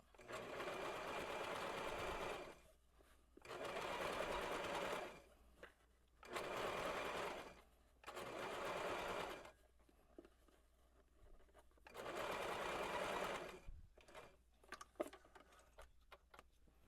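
A sewing machine stitching fabric for a shirred dress runs in several bursts of rapid mechanical whirring, each a couple of seconds long and separated by quiet pauses, with light handling clicks near the end.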